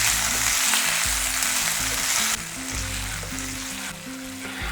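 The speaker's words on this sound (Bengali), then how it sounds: "সাথে দিয়ে দিচ্ছি 1 টেবিল চামচ আদা বাটা, সাথে সাথেই দিয়ে দিচ্ছি স্বাদ মতো নুন। এই সময় নুনটা দিলাম যাতে আদাটা কম ছিটকায়।" Ginger paste with green chilli and salt frying in hot oil, a dense close sizzle running continuously and easing slightly partway through, with faint stirring and no voices.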